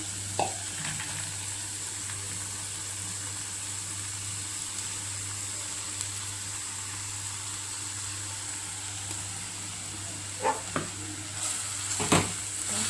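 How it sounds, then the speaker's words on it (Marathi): Leftover chapati crumbs are stirred in a frying pan over steady sizzling, with a few scrapes and clinks of the spoon against the pan, close and continuous, no voices. "व्यवस्थित असं हलवून घ्यायचं."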